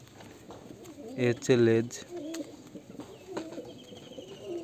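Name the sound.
pigeon cooing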